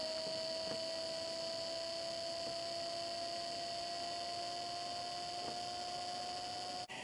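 A Milwaukee M18 TOP OFF portable inverter running on a 5.0 Ah battery works hard under load. It gives a steady electrical hum and whine with a high pitched tone and faint clicks, continuous and close.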